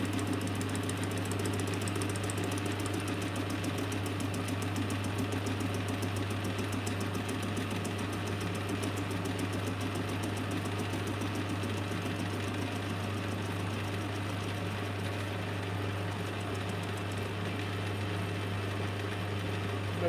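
A milling cut taken in a lathe across a steel angle, a steady close mechanical drone with a strong constant hum and fine rapid chatter, running unbroken and alone for the whole stretch.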